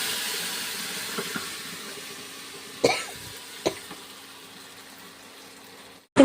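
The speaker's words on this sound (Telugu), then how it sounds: "పప్పుకి అయితే తాలింపు వేస్తున్నానండి" A pan tempering for mango dal, with asafoetida added, gives a steady soft sizzling hiss with a few faint clicks and pops, ending in a sudden louder burst.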